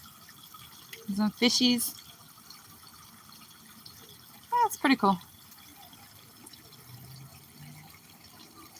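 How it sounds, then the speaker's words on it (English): Steady flow of water in a pond holding fish and a turtle, a soft continuous wash running through the whole stretch while a person talks over it in two short bursts. "being around flowing water is a very meditative way to spread"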